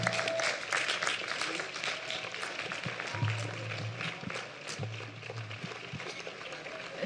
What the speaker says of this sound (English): He gave fake applause